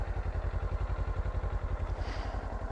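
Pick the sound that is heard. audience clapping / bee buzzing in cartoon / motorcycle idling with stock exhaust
motorcycle idling with stock exhaust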